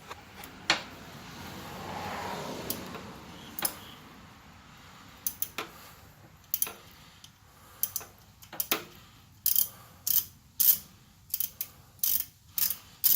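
A socket wrench ratchets on the positive battery cable nut of a 2007 Chevy Avalanche: a few separate clicks at first, then bursts of quick, sharp ratcheting close by in a quiet setting.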